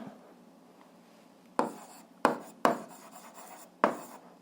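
A pen writes out the answer to an eighth-grade algebra exercise on paper, a handful of distinct scratchy strokes and taps spaced irregularly against a quiet background.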